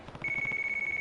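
A phone rings in the video game Yakuza Kiwami: a steady electronic ringtone tone begins after a brief moment and sustains at a constant pitch, with a pulsing buzzy trill beneath it, fairly loud and alone.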